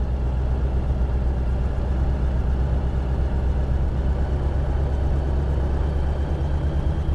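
An engine runs steadily at high power with its throttle advanced to 2500 RPM, a loud, continuous low drone that stays even throughout with no voices.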